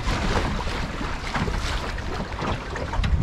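Steady broadband wind rush with water noise during a gust while under sail on a busy lake, a continuous near roar with slight swells in loudness, no voices.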